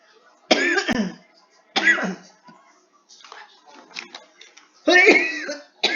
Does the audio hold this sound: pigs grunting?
no